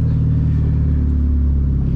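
Straight-piped Genesis Coupe driving through a downtown area, a loud, continuous deep exhaust drone with a raspy rumble held steady and close for the whole stretch.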